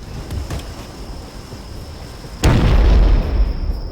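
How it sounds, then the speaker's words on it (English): A plasma grenade from the Halo video game detonates in one sudden loud burst, following a quieter stretch of steady hiss and crackle, then a rumbling tail that slowly fades. "A lit plasma grenade generates these unstable electric sparks that shoot out from the center"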